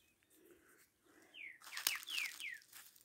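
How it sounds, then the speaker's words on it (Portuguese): Birds sing and chirp at a farm in the countryside, with several short descending whistled calls and chirps. They grow louder and denser in the second half, with a sharp burst near the middle. "Fiquei com o som lindo dos pássaros."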